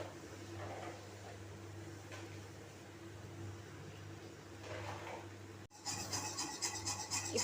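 Sugar with a little water being stirred in a pan as it caramelizes for bread caramel pudding, a steady soft rasping scrape against a low kitchen hum, growing louder and more busy near the end.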